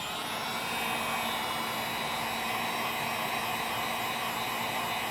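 A heat gun blows a steady, loud airy roar throughout while warming an HTC One M8 phone to free its speaker; the whooshing hiss stays constant with no talk over it.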